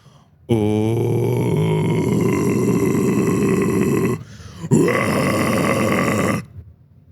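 A raspy, gravelly distorted false chord vocal scream held for several seconds, briefly breaking off, then resuming with the same rough growl.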